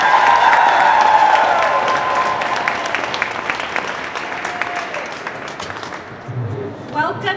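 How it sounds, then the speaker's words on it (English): A crowd at a rally in the Minnesota Capitol applauds loudly at first, then the clapping thins and fades until a single voice begins speaking near the end. "So please give them a round of applause."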